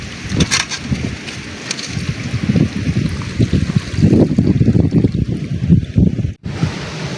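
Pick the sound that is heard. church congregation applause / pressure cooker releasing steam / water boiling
water boiling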